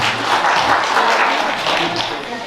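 A crowd at a Bangladeshi community Victory Day celebration in Iowa applauds in a dense, steady wash of clapping, loud and sustained, with some voices mixed in.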